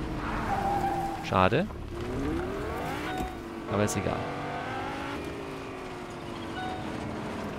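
Car driven in Fortnite, a steady engine hum with two bursts of tire squeal as it skids, under someone speaking.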